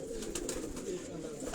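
Pigeons kept on a rooftop, once belonging to the late Ustad Ikhlaq Ahmed Khan's household, give a soft, low steady cooing, close but quiet, with faint background noise.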